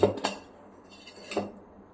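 A metal spoon clinks twice against a bowl while sugar is added to farali handvo batter, two short, sharp taps about a second apart in a quiet kitchen.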